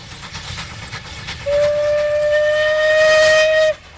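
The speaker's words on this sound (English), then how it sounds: "The British loved to preserve their old steam trains." A preserved old British steam train rumbles along nearby, then a loud, sustained whistle blasts for about two seconds before cutting off.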